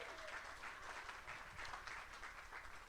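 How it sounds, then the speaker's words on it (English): An audience applauding the door openers at a Clubhouse Live event, a steady wash of clapping heard faint and distant, with no pauses. "give them a round of applause, please"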